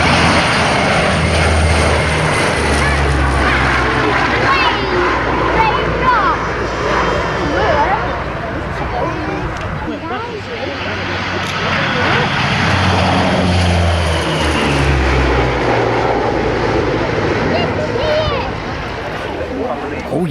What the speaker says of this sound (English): This week we go back to the Woodford Airshow back in the early 1990s.